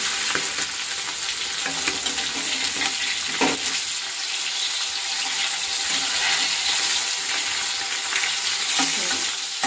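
Food frying in hot oil in a home kitchen pan, a loud continuous sizzle with occasional stirring clatter and a brief louder knock, close and steady with no talking.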